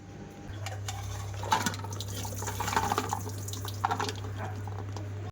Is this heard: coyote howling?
no